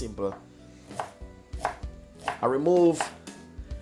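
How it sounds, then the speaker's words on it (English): Peeled ginger is diced with a knife on a cutting board, a handful of crisp, uneven chops up close with short pauses between strikes and no talking. "So basically, I'm gonna dice it up."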